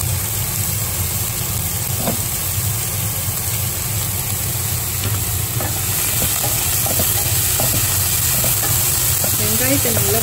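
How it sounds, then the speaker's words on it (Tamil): Onions sauté in a pan with a loud, steady sizzle and frequent stirring scrapes, broad crackling hiss throughout with faint background noise. "வெங்காயத்தை நல்லா வதக்கி விடலாம்"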